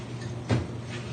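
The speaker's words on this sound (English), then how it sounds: "What you do is you open up the lid" A single short, dull pop as the lid comes off a can of pre-stain wood conditioner, heard close over a steady low background hum.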